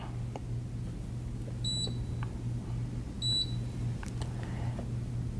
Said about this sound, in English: This is a beeping sound that occurs when the mix level is too low.